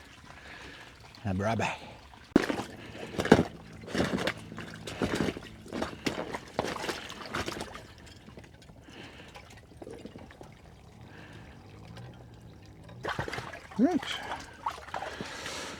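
Water being emptied out of a container at an off-grid homestead, with intermittent splashes, pours and trickles in uneven bursts, while a person speaks briefly between them.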